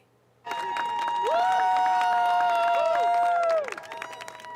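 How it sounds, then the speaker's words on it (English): Demonstrators applaud workers leaving the U.S. Agency for International Development after they were ordered to clear their desks. Steady clapping starts suddenly and holds loud for several seconds, then thins out. "Demonstrators clapping in support of workers as they left behind an agency"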